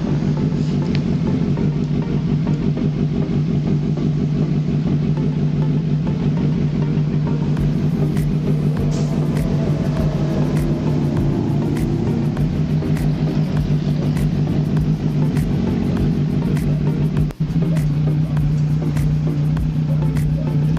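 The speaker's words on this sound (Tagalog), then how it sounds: "Siya yung pinag-sound check natin from idle saka sa pag-rev." Kawasaki Z900SE motorcycle fitted with an ARG custom racing muffler, idling with a steady low throb and occasional blips of revving, loud and close throughout with no talking.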